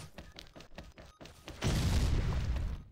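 A loud blast erupts in the shooter game XSHOT, following a run of sharp gunshots; the explosion hits about halfway through and leaves a heavy, rumbling roar that sustains before fading.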